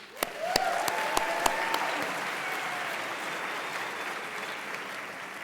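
Audience applause at a Les Roches graduation ceremony, a few sharp close claps at the start giving way to sustained, even clapping from a large crowd.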